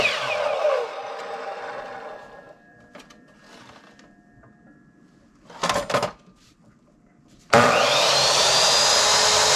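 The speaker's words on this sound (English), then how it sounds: "We're gonna use our Ryobi miter saw." A Ryobi miter saw with a small blade cuts into a 4x6 beam for a heavy-duty workbench. A high whine winds down at the start, a few short bursts follow through quiet gaps, and the motor then surges back loud and steady.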